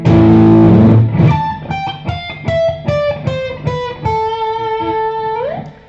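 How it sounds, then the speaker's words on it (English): An electric guitar with a distorted tone plays a descending A Aeolian natural minor scale in single notes, one after another, after a held opening chord. "What he's playing is A Aeolian."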